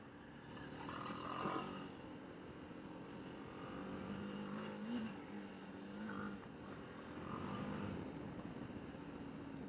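A BMW G 310 GS motorcycle ridden on dirt trails with technical spots, its engine droning steadily under wind rush and rising and falling with throttle and downshifts, fairly faint and with no talking.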